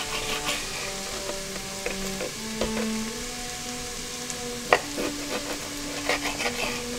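Onions browning in a pressure cooker pot for Taiwanese braised pork belly, a steady crackling sizzle with occasional stirring clatter and one sharp knock, no one speaking.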